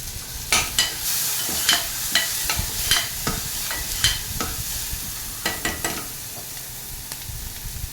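Salted onions fry in a pan while being stirred, a continuous soft sizzle broken by repeated scraping strokes of a spoon at an uneven rhythm, close and with no voices.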